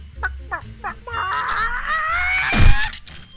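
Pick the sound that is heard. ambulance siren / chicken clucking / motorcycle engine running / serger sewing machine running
chicken clucking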